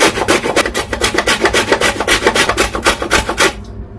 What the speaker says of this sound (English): I'm using this coarse part of my grater to grate it in.